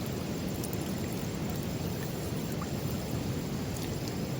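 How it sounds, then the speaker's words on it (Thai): Steady heavy rain roars over a river during a storm, a dense continuous wash of noise with deep low rumble suggesting distant thunder, loud and unbroken throughout, with no voices. "อันนี้ฝนมาแล้วครับตอนไม่แรงเนาะมืดฝนมาแล้วครับ จะตกขึ้นแล้วครับ"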